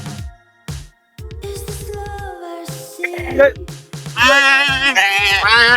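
Sheep bleat repeatedly at a Dubai livestock market, loud, close calls rising into a sustained wavering bleat toward the end, with people talking amid the animals.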